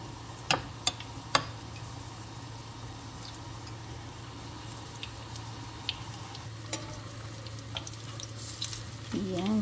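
Squid balls fry in hot oil with a steady, moderate sizzle and a low hum underneath, broken by occasional sharp clicks and taps of utensils.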